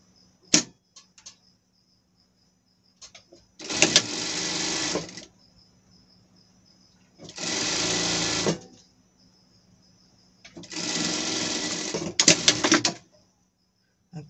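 A sewing machine stitches down elastic on a pet dress in three distinct bursts of rapid whirring, each lasting one to two seconds, separated by quiet pauses with small clicks.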